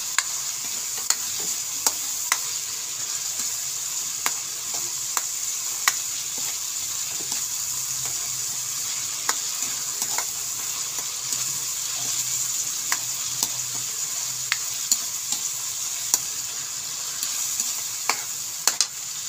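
Onions frying in a pan for a sardine and patola dish, a steady close sizzle with frequent light clicks of stirring, continuous and without talk.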